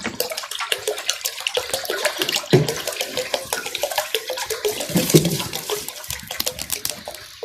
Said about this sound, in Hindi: इसलिए हम इसमें पानी डालेंगे।